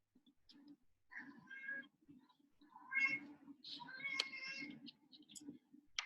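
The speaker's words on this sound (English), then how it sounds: "If you can hear my cat, he's meowing." A house cat meows several times in short, irregular calls, some rising and drawn out, over a faint low hum in a quiet room.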